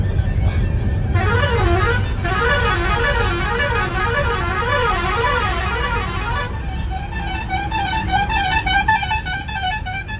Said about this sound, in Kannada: ಬಸ್ಗಳ ಹಾರಣ ಕೇಳ್ಬೇಕು